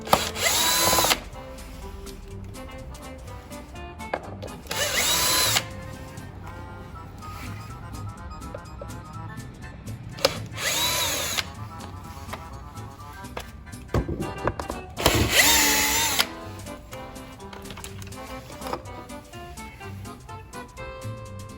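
On a SYM Joyride 200i Evo scooter, a power screwdriver whirs in four loud, close bursts to back out screws, with clicks and handling noises between the runs.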